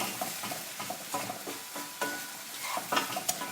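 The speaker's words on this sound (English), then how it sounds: "And let me give that a bit of a stir." Beef casserole with Worcestershire sauce stirred in a pot, with a utensil scraping and sloshing through the thick mixture in irregular strokes over a steady bubbling sizzle, close.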